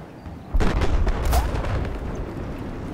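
A tank fires shells in the video game Battlefield 4, with a heavy booming blast followed by a rumbling decay and smaller crackling impacts nearby.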